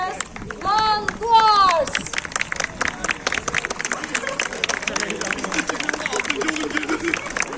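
Audience at a TEKNOFEST unmanned ground vehicle competition award ceremony in Tekirdağ clapping steadily as a crowd, loud and sustained, with a voice speaking over the start.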